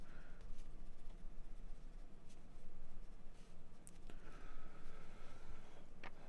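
Pencil shading a tree drawing on paper, a close, continuous scratchy scribble of graphite strokes with short pauses and a few light taps, steady and unaccompanied by talk.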